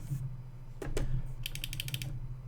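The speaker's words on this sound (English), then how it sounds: "That's me rattling the shifter." The shifter of a Logitech G920 racing wheel setup is rattled, giving a quick burst of close, sharp plastic clicks and knocks after a couple of softer thuds.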